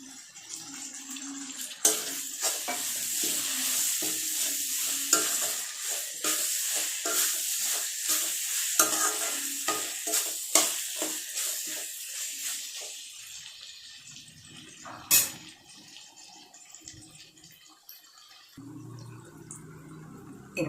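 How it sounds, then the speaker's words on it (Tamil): Tomatoes and green chillies frying in a pan with softened ginger and garlic for a goat head curry, a steady close sizzle broken by repeated scraping stirs, with no talking. "இப்போ நம்ம தக்காளியும் பச்சை மிளகாயும் சேர்த்துக்கலாம்."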